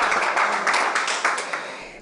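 Crowd clapping for Cristiano Ronaldo at his Al Nassr presentation, a dense, moderately loud patter of hand claps with slight surges, continuous and without talk.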